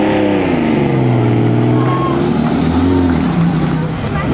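A troubled Ferrari drives past during the 2009 Mille Miglia road race, its engine droning loud and close with rising and falling pitch, while voices mix in nearby.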